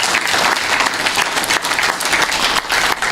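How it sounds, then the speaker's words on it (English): An audience applauds presenters at an AI summit event, a dense, steady clapping that fills the room and holds at full strength throughout. "let's give all our presenters a round of applause"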